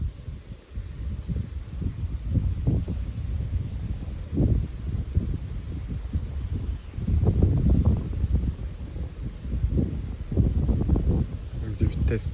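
Wind picks up suddenly on an evening, buffeting the microphone in low rumbling gusts that swell and fade in waves, with someone speaking over the blustery roar.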